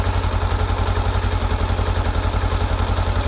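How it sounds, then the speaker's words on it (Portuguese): Close and loud, a Honda 500X motorcycle engine idles with the clutch released, giving a steady, rhythmic low thrum with fast regular pulses throughout and no voices. "Olha o barulho da moto."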